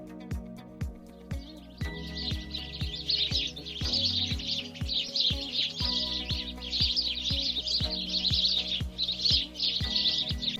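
Birds sing and chirp continuously in spring, several voices overlapping in bright repeated phrases, with sharp rhythmic clicks or taps running steadily underneath.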